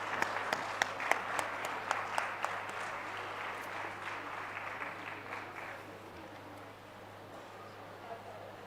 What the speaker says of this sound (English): clap is highly important.